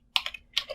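Typing on a computer keyboard: three quick, crisp keystrokes, close and clear in a quiet room.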